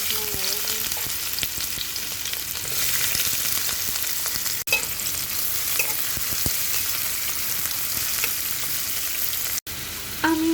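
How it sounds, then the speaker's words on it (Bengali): Chopped onion and garlic frying in hot oil for a traditional Bikrampur breakfast, a loud, continuous crackling sizzle with a few brief stirring knocks. "তেলটা গরম হয়ে গিয়েছে তো আমি এখন পেঁয়াজ আর রসুন কাটাগুলো দিয়ে দেবো"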